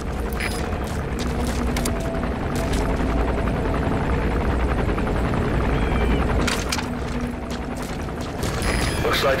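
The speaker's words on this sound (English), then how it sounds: "Looks like the arms dealer's chopper is going to patrol for the security forces." A helicopter in Metal Gear Solid V, an arms dealer's chopper on patrol, throbs loudly and steadily throughout amid game ambience and occasional bursts, with no talk.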